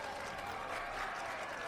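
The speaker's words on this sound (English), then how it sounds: "Again, the crowd clapping for Freeman." Crowd at a high school 2A baseball consolation semifinal applauding the pitcher, a faint, steady wash of distant clapping lasting under two seconds with no talk over it.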